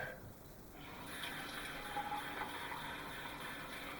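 Water runs steadily into a container during a simple ink-and-soap demonstration, a soft continuous faucet-like pour that starts quietly and grows a little fuller, with no talking.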